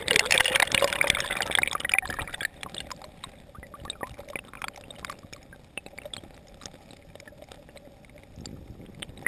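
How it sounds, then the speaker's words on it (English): A calm stream flows with gentle trickling and splashing water, louder at first and then settling into a soft, uneven babble with small drips. "a video where there's just this kind of pretty calm stream"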